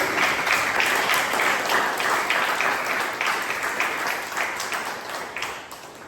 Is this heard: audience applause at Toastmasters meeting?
yes